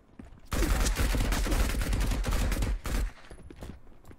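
Rapid gunfire crackles in the space pirate video game Marauders, a dense burst of shots lasting a few seconds before cutting off, loud and close.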